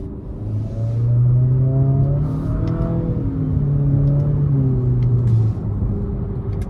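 A 2023 Nissan Altima SR VC-Turbo with a CVT, driven in drive using its paddle shifters, accelerates with a steady, loud engine drone that rises and holds in pitch, heard from inside the cabin without talk.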